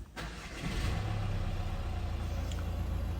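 A Mercedes A Class 1.5d diesel engine cranks and fires, then settles into a steady, loud low rumble at idle, recorded close with no talking.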